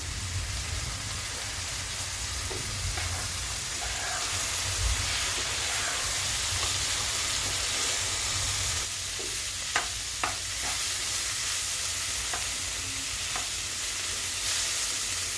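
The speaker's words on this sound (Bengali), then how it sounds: "চাল কুমড়োটা কিন্তু বেশ ভালো করে ভাজা হয়ে গিয়েছে" Ash gourd frying in a pan, a broad, steady hiss and sizzle running throughout at close range, with a few soft stirring knocks toward the end and no speech.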